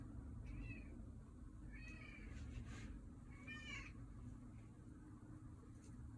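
A pet cat meows several times at moderate distance outdoors during summer bonsai work on Japanese maples, short rising calls spaced a second or two apart over constant ambient hiss and low rumble.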